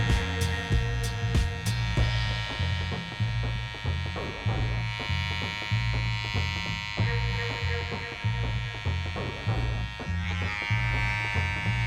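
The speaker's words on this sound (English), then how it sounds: "the tool that I'm using is a Wahl Detailer LI. This cordless trimmer has 100 minutes of runtime" A Wahl Detailer LI cordless trimmer runs with a steady electric buzz and hum, with a faint pulsing rhythm from the blade against skin. It is close and continuous for the whole stretch, with no talk over it.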